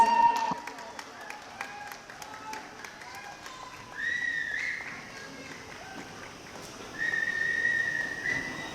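Audience at a 2025 prize distribution applauds and whistles for prize winners, sustained clapping with several shrill whistles rising over it, plus some crowd voices.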